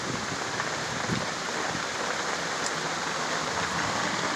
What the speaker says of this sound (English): It is raining crazy out there.